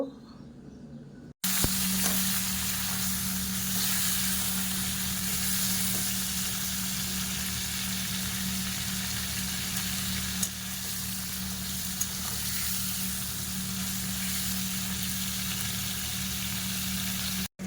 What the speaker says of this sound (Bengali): এখানে রসুন আদা কাঁচা লঙ্কা পেঁয়াজ ভেজে নিয়েছি